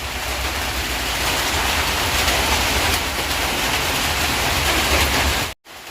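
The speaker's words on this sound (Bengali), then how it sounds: "বৃষ্টি হচ্ছে আমাদের বাড়িঘরের অবস্থা কি হয়ে আছে" Steady, dense rain pours continuously with a broad hiss on a mud house, loud and close, with no voices, then cuts out briefly near the end.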